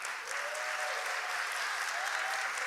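A church congregation applauding together, a dense, steady wash of clapping that fills the room at moderate loudness without a break.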